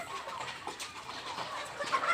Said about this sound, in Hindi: यह गोल्डन मिस्री मुर्गी है।